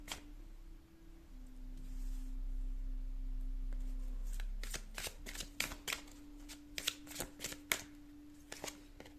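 Tarot cards shuffled close up: a faint rustle first, then a run of crisp riffling bursts over a steady low tone, with no talking.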